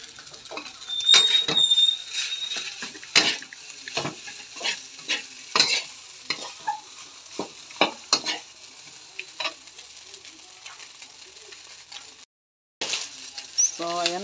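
Fried rice being stirred in a hot pan, with repeated scraping strokes over a steady sizzle, close and fairly loud; a brief voice comes in near the end.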